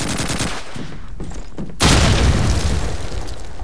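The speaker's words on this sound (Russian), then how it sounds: "Берегись! Граната!" A grenade goes off in the Call of Duty 2 World War II shooter, a sudden loud boom that cuts in midway through scattered gunfire and battle noise and leaves a heavy rumbling roar behind it.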